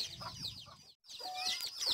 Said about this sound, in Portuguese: Olha como a galinha fica. É brava ela.